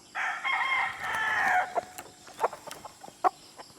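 Roosters at a farm raising game-fowl stags: one loud, close crow lasting about a second and a half, followed by several short clucks and calls, with no talk.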